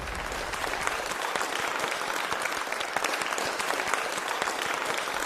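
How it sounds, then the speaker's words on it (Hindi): An audience applauds to welcome the poet Anamika Joshi: dense, sustained clapping from a crowd, loud and even from start to finish with no voices. "तालियों से स्वागत कीजिए अनामिका जोशी का"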